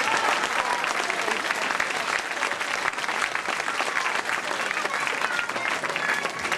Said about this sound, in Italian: Se vi è piaciuta fate ancora un altro applauso.